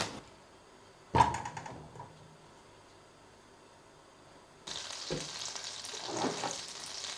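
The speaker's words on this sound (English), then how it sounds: "I'm going to weigh out 75 grams of butter and get that softening" Seventy-five grams of butter softening in a pan for macaroni cheese: a clunk as it goes in, a quiet lull, then a steady bubbling sizzle rising and holding to the end, with no speech.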